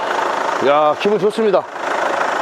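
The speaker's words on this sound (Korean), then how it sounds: "엔진 소리 한번 들려드릴게요" A used four-wheel-drive SUV engine idles with a steady, even hum throughout, while someone speaks briefly over it in the middle.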